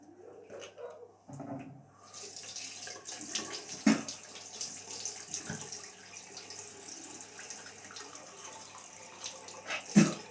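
Water running from a bathroom tap to rinse after brushing teeth, starting after a short pause and flowing steadily, close by and fairly quiet, with a few clinks and knocks.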